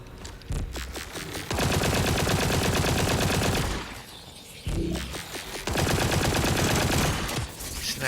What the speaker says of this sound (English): Let's test that real quick. It's an assault rifle, right?